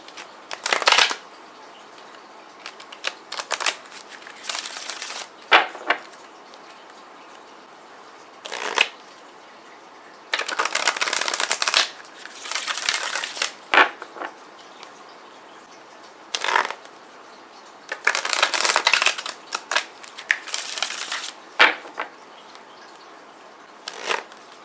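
Gaia Oracle cards are shuffled by hand in repeated bursts of crisp riffling and flicking, close and clear, separated by quiet pauses, with no talk over them.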